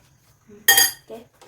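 A spoon stirring in a bowl of oil while making bun maska, heard as one loud metallic clatter followed by a couple of softer clinks, close by and with no voices.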